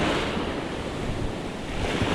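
Steady wind gusting out of the east on an open shore, roaring across the microphone over a continuous wash of surf, with no voices.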